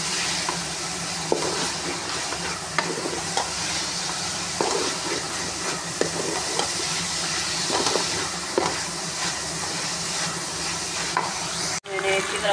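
Chicken keema frying in a pan with ginger, garlic and green chili paste gives a steady loud sizzle and hiss, with periodic scraping stirs and a sharp clatter near the end.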